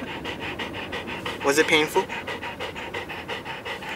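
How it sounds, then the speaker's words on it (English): A dog recovering from surgery pants rapidly and rhythmically in a car, close and steady throughout, with a person speaking briefly over the panting in the middle. "so that is my dog"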